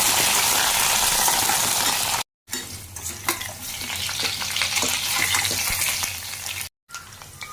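Potatoes fry in a pan tempered with cumin, bay leaf and dried red chilli, a loud steady sizzle broken by two brief silent gaps, with clinks and stirring scrapes in the later part.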